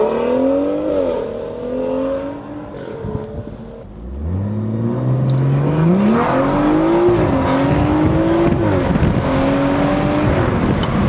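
A stage 2 BMW 340i with a B58 engine launches hard from a dig, the exhaust dropping briefly before a loud, rising roar climbs through the gears, close and continuous with no voices.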